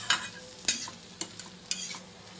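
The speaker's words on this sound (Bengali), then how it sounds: "বেশ খানিকটা আদা বাটা দিয়ে এটাকে একটুখানি নাড়াচাড়া করব।" Spoon stirring spices, turmeric, cumin and ginger paste in a frying pan, a few distinct scraping strokes over a soft sizzle, close and moderately loud.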